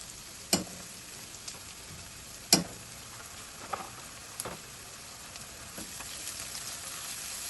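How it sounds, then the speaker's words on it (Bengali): Ginger and garlic paste frying in a pan while cooking koi fish with turnip, a low steady sizzle with a few sharp clinks and stirring knocks scattered through it, quiet and close, no talk. "আদা বাটা, রসুন বাটা দিয়ে আর একটু ভেজে নিব"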